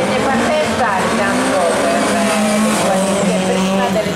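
A Fiat 131 Abarth historic rally car slides sideways during qualifying at the Bologna Motor Show, its engine droning loudly and continuously under a commentator's talk, with faint tire noise throughout.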